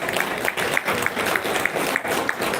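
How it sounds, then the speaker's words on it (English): Audience clapping at a women empowerment forum and MOU signing event, a dense steady wash of applause from a seated crowd, fairly loud and continuous throughout. "let's give Tatin and Doctor a round of applause first"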